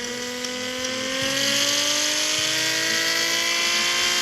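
Nissan R34 GTR engine in the Car Parking Multiplayer 2 racing game, rally testing, a steady droning engine tone with pitch sliding gradually as it downshifts, loud and continuous without voices.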